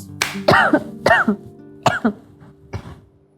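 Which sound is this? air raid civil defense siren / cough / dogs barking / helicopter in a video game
cough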